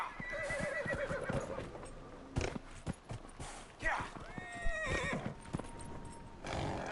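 A horse in the video game Dragon Age: Inquisition whinnies loudly amid clip-clopping hooves, followed by a few more short neighs and hoof clatter, with no talk over it.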